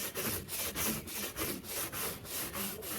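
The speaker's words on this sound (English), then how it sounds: "Okay, let's try some scrubbing. Apply some pressure." Wooden deck scrubbed with degreaser under firm pressure, giving a close, steady run of back-and-forth rubbing strokes about four per second, with no voices.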